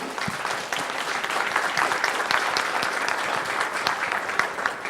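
Audience applause after a talk on corporate social networks, a dense, even crackle of many hands clapping steadily throughout, fairly loud with no speech over it.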